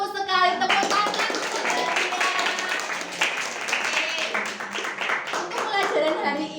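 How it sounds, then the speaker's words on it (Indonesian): A group of children clapping together in a steady burst of applause in a classroom, fairly close and lively, with scattered young voices mixed in. "tepuk tangan."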